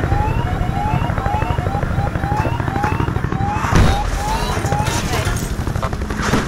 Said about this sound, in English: Missile lock.